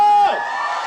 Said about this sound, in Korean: 박사님 팬들 박수와 함성